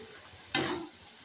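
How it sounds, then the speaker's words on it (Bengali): Fried fish dropped into a pan with chillies, sugar and salt, giving one sudden, short sizzling hiss that flares up and fades within a fraction of a second against quiet kitchen background. "মাছগুলো দিয়ে দিলাম, ভাজা মাছগুলো"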